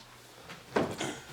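A drawer is pulled open to fetch disinfectant, a brief sliding wooden clunk followed by a second knock, heard nearby in a quiet room.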